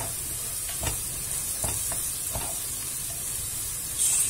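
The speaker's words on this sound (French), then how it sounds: "je vais mettre mon concentré de tomate et mon ketchup. Et je vais les faire revenir également." Tomato paste and ketchup sautéing in a pan give a steady, close sizzle and hiss, broken by a few soft scraping stirs of a utensil.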